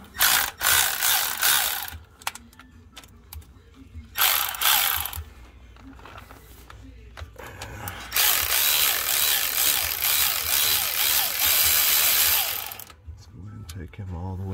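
A ratchet with a 12-point socket loosens transmission pan bolts on a Dodge Nitro 3.7L, making quick clicking pawl runs in bursts followed by a long continuous ratcheting stretch, close and loud, with brief talk in between.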